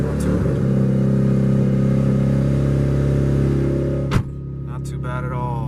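Stock-engine Mitsubishi Evo 9 with 66,000 miles, its motor droning and revving steadily up close before a sharp cutoff, after which a short faint tonal sweep is heard.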